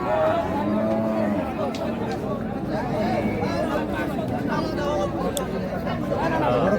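At a busy cattle market in Bangladesh, Qurbani bulls low repeatedly through steady crowd chatter, their moos carrying close and clear over the surrounding voices.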